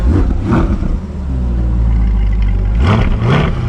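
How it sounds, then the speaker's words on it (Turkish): Chevrolet Corvette Stingray at a race track with its exhaust valve open, giving loud, deep blips and a sustained throaty rev, close to the car with no talking. "şimdi bir de egzozun kapağını açtım şimdi. Ses değişti bak."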